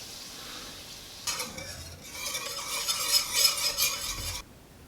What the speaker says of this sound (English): the last thing I'm going to do is swirl in about 2 tablespoons of cold butter